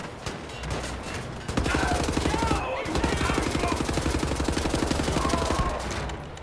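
Sustained rapid gunfire from a weapon in Wolfenstein: The New Order, a dense continuous automatic burst filling the whole stretch, loud and steady with a brief stronger onset partway through.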